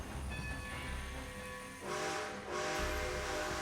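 Steam train whistle in Red Dead Redemption 2, a long sustained hooting tone with a breathy hiss, swelling in two loud blasts over rumbling rail noise.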